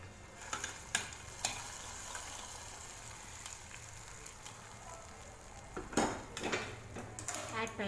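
A ladle clinks and scrapes against a pot while roasted cashews and raisins are stirred into semiya payasam, with several sharp metallic knocks over a faint simmering hiss, busier toward the end.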